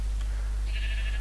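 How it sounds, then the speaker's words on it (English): A single sheep in the Minecraft video game gives a short, clear bleat over a steady low background hum. "I managed to find two sheep."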